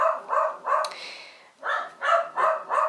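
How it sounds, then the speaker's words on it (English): Several dogs bark in quick bursts at someone at a gate, close and loud, with a brief pause before another run of sharp barks. "Sorry, my dogs. Somebody must be at the gate."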